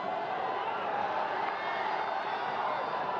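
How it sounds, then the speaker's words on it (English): A hockey crowd at a men's World League Final match between New Zealand and India cheers in a steady, distant roar that stays fairly faint and unbroken throughout. "Mandy gets the support of the crowd and gets them back on their feet and gets them back cheering"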